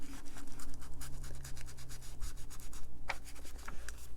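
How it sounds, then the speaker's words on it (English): Ink being lightly rubbed onto a colouring book page, giving a soft, continuous scratchy rubbing in repeated short strokes, close and steady with no talk. "put more ink on there, and just lightly rub it on the page"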